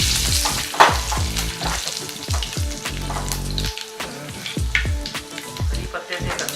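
Curry leaves and chopped ginger fry in a pan for upma, crackling and sizzling loudly up close with scattered spits and pops, interrupted by a few spoon scrapes.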